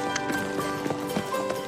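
A horse moving at a farm homestead in Moruya, Australia, its hooves giving a fairly steady clip-clop rhythm of soft thuds, close and moderately loud over a dense, noisy background.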